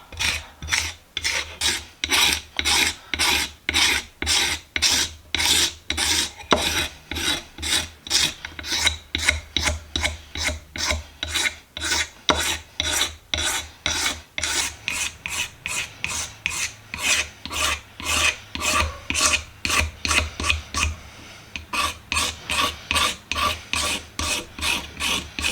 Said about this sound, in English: I'm going to scrape the funk and gunk off the handle